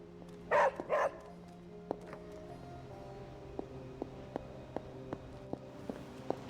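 A small dog in Marvel Midnight Suns gives two quick close barks, followed by a string of light, evenly spaced ticks or footsteps against a soft background hum.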